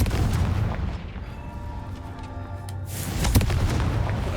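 Confringo blasting spell cast in Hogwarts Legacy, a heavy booming blast that rumbles and fades, followed by a second sharp crack and burst about three seconds in, loud and close with no talk.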